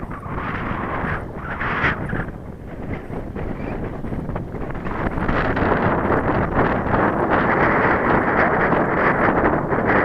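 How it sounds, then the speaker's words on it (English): Steady, loud wind buffeting the microphone in an open field, a dense rushing roar that swells and lulls before holding strong, with no voices. "Oh, here's that wind again."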